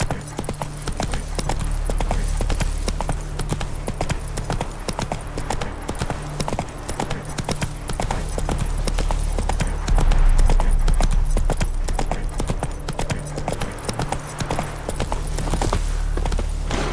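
Horse hooves of Roach, the mount in the video game The Witcher 3: Wild Hunt, beat in a steady galloping clip-clop that runs the whole time, loud and close over a constant game soundscape.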